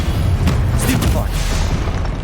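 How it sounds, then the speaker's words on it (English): A Stupefy spell from the video game Hogwarts Legacy hits with a heavy booming impact and a short rumbling tail, loud against busy game sound with a voice in the mix. "Stupefy!"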